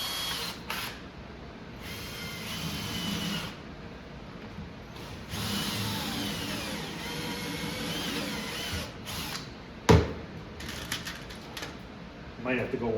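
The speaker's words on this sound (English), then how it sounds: "I'm going to have to get a drill bit to drill these holes a little bit bigger" A power drill with a 1/8 inch bit whirs in short bursts of varying length, widening holes in a cocktail arcade table, starting and stopping repeatedly, with a sharp clunk partway through.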